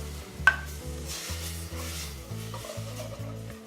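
Wine poured into a hot copper pan hisses and sizzles steadily while a utensil scrapes the bottom, with one sharp metallic clink near the start and a low rhythmic hum running underneath, close and fairly quiet.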